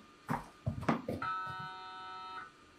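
After a few short knocks and movement sounds, a Hikvision walk-through temperature-screening metal detector sounds a steady electronic alarm tone for about a second, clear and fairly close.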